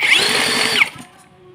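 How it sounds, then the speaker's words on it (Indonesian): An electric starter whirs as it cranks a four-stroke motorcycle engine with newly fitted ignition. The close, steady whine runs for under a second, then cuts off abruptly without the engine catching, leaving a faint hum. "Kita lanjut coba hidupin mesinnya mas bro, apakah hidup"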